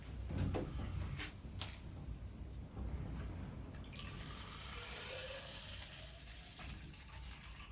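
Water pours from a container onto garden soil between two tomato plants, a steady close splashing and gurgling stream that soaks into the earth, with a few sharp knocks at the start.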